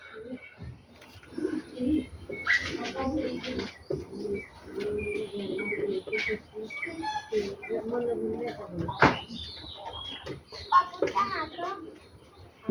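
Racer pigeons in a pigeon house coo and chirp close by in a steady run of calls, with someone talking over and between them throughout.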